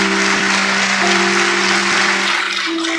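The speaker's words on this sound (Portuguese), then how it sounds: "Você pode aplaudir enquanto eu bebo água?" Church congregation applauds during a pastor's sermon, a sustained roomy wash of clapping with a steady held tone, likely organ or keyboard, running underneath, easing slightly toward the end.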